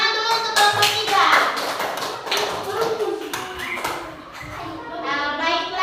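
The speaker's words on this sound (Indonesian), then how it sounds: "tepuk tangan dulu untuk kelompok 3" Schoolchildren in a classroom clap for group 3 in irregular bursts of close, sharp hand claps, with children's voices and chatter mixed in and a ringing tone near the start.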